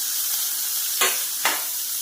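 Chopped onions and paneer pieces fry lightly in a pan, giving a steady soft sizzle broken by two brief bursts of hissing as food is stirred or added.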